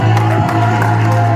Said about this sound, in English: This crowd erupts every single time this young man walks through the curtain